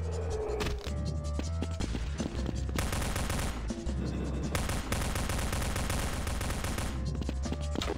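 Rapid gunfire from an enemy in a video game rattles continuously in dense bursts over a steady low hum, loud and close throughout.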